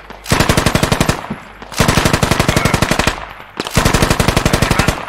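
Machine gun fire in the military shooter game Squad, three sustained rapid bursts of loud, evenly spaced shots separated by brief pauses, close and alone with no talk.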